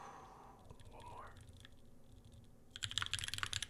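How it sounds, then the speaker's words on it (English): Rapid typing on a Keycult No.2/65 mechanical keyboard during a typing test, a dense burst of sharp clicky keystrokes starting late and fairly close, with faint background noise and a soft voice early on. "One more typing test."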